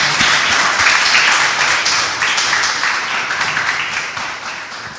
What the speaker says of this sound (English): Can we please give a round of applause to Mark and Anna?